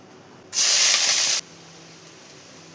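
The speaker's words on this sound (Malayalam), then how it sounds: "ഇതിലോട്ട് 4 സവാള സ്ലൈസ് ചെയ്ത് വെച്ചത് ചേർത്ത് കൊടുക്കാം." Four sliced onions hit a hot pan, letting out a loud, sudden sizzling hiss that holds steady for about a second before cutting off, with a faint clatter at the end.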